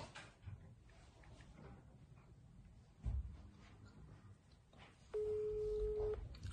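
Someone calls a friend on a phone: a single steady ringback tone sounds near the end over a quiet room with faint shuffling and a soft knock.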